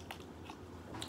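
A Bean Boozled jelly bean is chewed close to the mic, with a few soft, moist bites and squishes over a quiet background.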